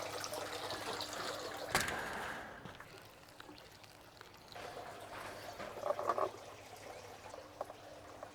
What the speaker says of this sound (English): I'm just going to water it in